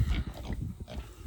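Little Juliana miniature pigs on a farm give short, close grunts and snuffles in a quick, irregular run with no voices.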